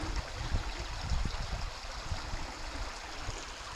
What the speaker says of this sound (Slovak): Tečie tu potôčik.